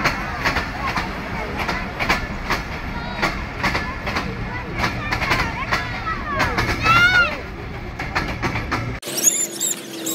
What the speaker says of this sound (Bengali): এখন এই যে ট্রেন যাচ্ছে, আমরা রংপুর এক্সপ্রেস, আমাদের রংপুর এক্সপ্রেস আর কি যাচ্ছে।